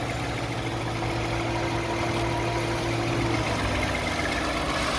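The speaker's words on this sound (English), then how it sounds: "The engine runs smooth" A 2013 Toyota Sienna minivan with 92k miles idles smoothly, a steady low engine hum with a faint tonal drone, heard alone at a constant level.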